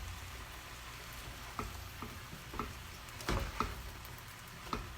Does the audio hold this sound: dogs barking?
no